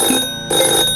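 A telephone rings loud and close in two electronic bursts separated by a brief gap, with no voices.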